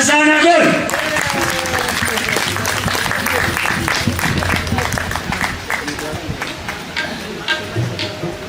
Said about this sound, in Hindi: तो आपकी भरपूर तालियों में फरजाना गुल।